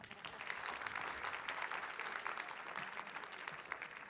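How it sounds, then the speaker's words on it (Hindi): Steady, dense audience applause at an Urdu poetry conference in the USA, distant and fairly faint, holding evenly throughout with a little crowd murmur. "तालियां तो होनी चाहिए थी।"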